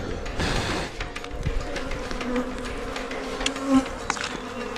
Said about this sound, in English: This loud buzzing is coming from thousands of bees.